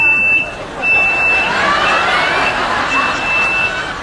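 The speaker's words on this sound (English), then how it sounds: "This right here is a beeper." An electronic beeper's small wire-fed speaker sounds a few sustained high-pitched tones, two long steady beeps separated by a pause, loud and close over a noisy crowded buffet backdrop.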